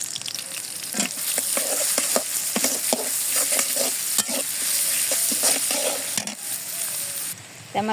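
Chopped onion, garlic, cardamom, cinnamon and bay leaf fry in hot oil with a bright, constant sizzle, while a utensil scrapes and stirs the pan again and again in quick, uneven strokes.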